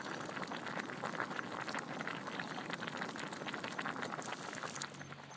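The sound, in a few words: water boiling, cooking duck Mi Goreng noodles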